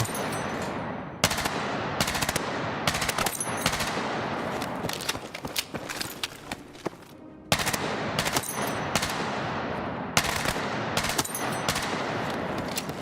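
Rapid automatic gunfire in the video game Battlefield 6, loud sustained bursts with brief pauses between them, one longer gap near the middle, no talk over it.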